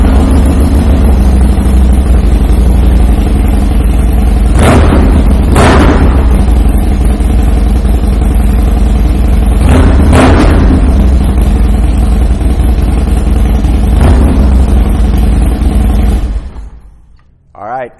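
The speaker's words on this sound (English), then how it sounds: "I am going to take the opportunity right now to fire it up so you can hear that 2-in-1 exhaust." A 2016 Harley-Davidson Dyna Low Rider with a brushed aluminum 2-in-1 exhaust rumbles loudly and steadily at idle, with a few short revs or surges, before cutting off abruptly near the end.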